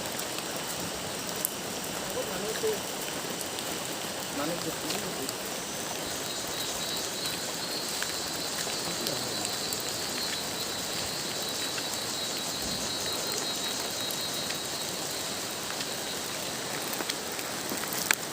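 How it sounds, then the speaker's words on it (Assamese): Steady, even rain falls outdoors near the Meghalaya border around Hahim Aredonga, a continuous close hiss with faint bird calls now and then. "আৰু আৰম্ভ বৰষুণ।"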